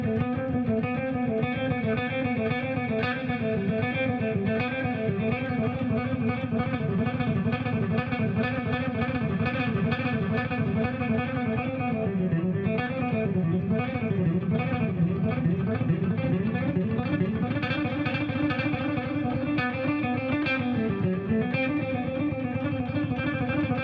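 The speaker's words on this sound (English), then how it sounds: "Try combining some of these exercises randomly and use your imagination." Electric guitar plays a steady, continuous stream of fast picked lines that mix 16th-note and triplet patterns, dense and unbroken at an even volume with no talking over it.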